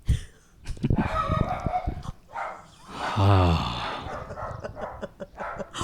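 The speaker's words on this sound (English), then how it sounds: "Yes, another dog. That was insane timing." A dog barks in sharp, close bursts, then lets out a longer wavering, howl-like cry midway before more scattered barks, with a loud, busy background throughout.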